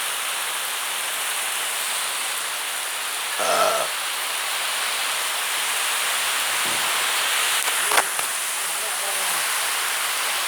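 Steady heavy downpour hisses continuously with wind noise, interrupted by a couple of short thumps and a brief rustle, rain wetting the recording camera.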